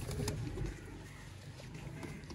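Soft cooing from breeding pairs of pigeons kept by a fancier, low murmuring calls close by over a faint background hum, with a passing car noise and no voices.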